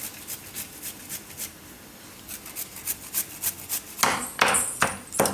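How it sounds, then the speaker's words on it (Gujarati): Ginger, chillies and garlic are crushed by hand for a Gujarati corn and potato curry, giving rhythmic scraping, grinding strokes that grow louder and harsher toward the end, close up with no talking. "તો આ રીતનું આપણે વાટી લેવાનું છે આદું, મરચાં ને લસણ."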